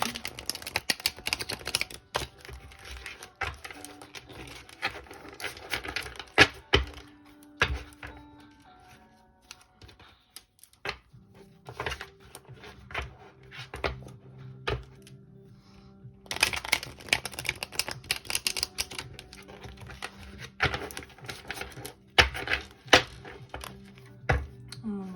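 Rapid, riffling clicks of a tarot deck being shuffled for a card reading come in repeated bursts, close and crisp, with quieter pauses between.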